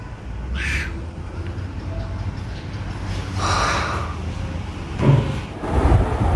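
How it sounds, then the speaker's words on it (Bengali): A bird calls from a tree outside in a few short bursts, moderately near, over steady low background hum, with no talk. "এই যে এইখানটায় আছে পাখিটা ডাকাডাকি করতেছে"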